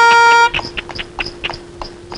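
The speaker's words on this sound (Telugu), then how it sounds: "హార్న్ మోగుతుంటే వినపడలేదు" A car horn blares loudly in one sustained honk for about half a second, followed by scattered short, sharp clatters and knocks.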